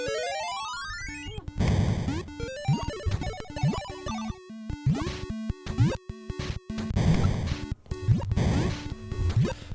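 Chiptune-style video game music from Super Hunchback plays alone, with bright square-wave melodies, rapid arpeggios, and rising sweeps over a steady bass line. The rhythm is busy and shifts abruptly between sections, with no talking over it.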